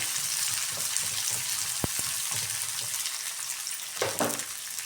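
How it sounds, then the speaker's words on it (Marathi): Thinly sliced onion frying in a pan, a continuous close sizzle with occasional stirring scrapes and a couple of sharp clicks. "आता आपण कांदा हा व्यवस्थित भाजून घेऊ."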